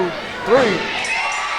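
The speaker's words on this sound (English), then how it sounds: "And the crowd is ecstatic." Wrestling crowd cheering at a women's wrestling match, a short burst of shouting and whooping voices from an arena audience, fairly distant and steady.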